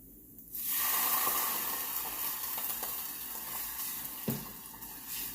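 Wine poured into a hot pan of mixed spices sets off a sudden loud burst of sizzling. The hiss holds steady, then gradually softens, with a small spatter near the end and no voices.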